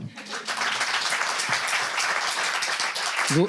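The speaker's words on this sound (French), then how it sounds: "On peut les applaudir." Dense crowd applause fills the whole stretch, steady and fairly loud, with faint voices mixed in and a brief vocal sound near the end.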